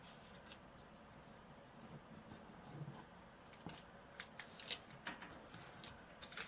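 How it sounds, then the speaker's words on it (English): Scissors snip through paper seed packets at a craft table, with soft rustling at first and then a run of small, crisp cuts close by, fairly quiet overall. "then I will cut them out."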